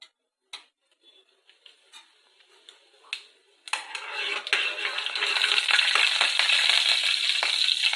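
Spice seeds for tempering sizzle in oil heated in a deep ladle, starting with a few sparse crackles and pops, then swelling into a steady, bright, dense hiss that continues to the end, close and with no talking.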